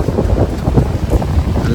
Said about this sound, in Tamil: நல்லா சில்டு காற்று தான் அடிக்குது